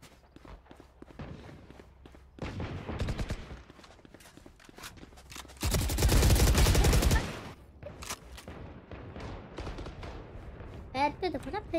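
Gunfire in a shooting video game, a dense burst of rapid shots in the middle with scattered single cracks and steps around it, mid-loud under a game mix.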